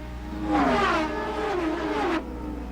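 A 1994 IndyCar race car roars past on the Milwaukee Mile oval, its engine note rising then falling as it sweeps by, followed by a second car, loud and close over track noise.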